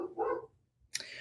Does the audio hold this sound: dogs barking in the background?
yes